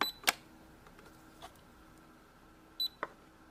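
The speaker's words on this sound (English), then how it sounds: "when you press your credit card, it also makes a sound that you're paying" A Peppa Pig toy cash register plays its credit card payment sound: a few faint, brief electronic beeps and chirps spaced apart over a quiet background hum, with no talk.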